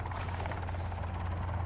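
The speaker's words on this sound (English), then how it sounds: "Oh my God, a helicopter." Helicopter flying overhead in the survival video game Sons of the Forest, a steady close rotor thump and engine buzz, loud and continuous with no talk.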